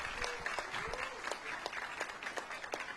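Scattered applause from an audience at a government portal launch event, fairly faint and uneven, with individual claps standing out against a murmur of voices in the room.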